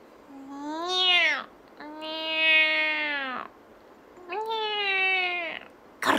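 A human voice imitates a cat, giving three drawn-out, whiny meows one after another with short gaps between them, close and clear.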